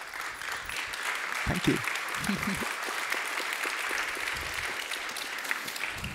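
Audience applause at a summit, a steady roomful of clapping that carries on throughout, with a brief spoken word over it near the start.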